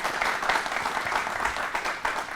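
An audience seated at a Bihar conclave applauds a speaker's idea, a steady, dense burst of many hands clapping in a hall, without talk over it.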